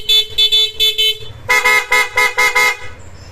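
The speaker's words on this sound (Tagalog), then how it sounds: "Tapos yung busina niyan, PIAA with selector." A PIAA car horn with a tone selector honks in two rapid series of short beeps, loud and close, the second series deeper and fuller than the first.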